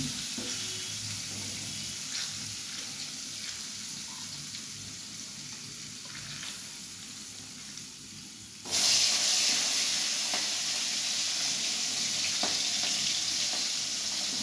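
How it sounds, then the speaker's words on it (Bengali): Eggplant slices fry in a pan of hot oil, a continuous loud sizzling hiss that swells suddenly partway through and stays strong, with faint clinks of a utensil. "আর একটু বেগুন ভাজছে এখন।"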